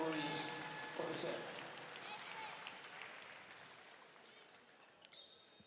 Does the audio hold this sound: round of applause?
yes